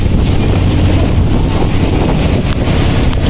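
A small outrigger boat with a new engine runs at speed under its captain, its motor drone buried in loud, steady wind buffeting and water rush across the whole stretch, with no voices.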